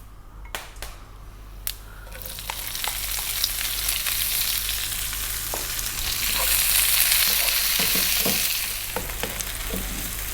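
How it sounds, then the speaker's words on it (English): Onion fries in hot oil for a slow-cooked railway mutton curry, a loud continuous sizzle that swells in the middle, with occasional clicks and stirring knocks and no talking. "we're going to add the onion, and we're going to let that onion go for about 4 minutes"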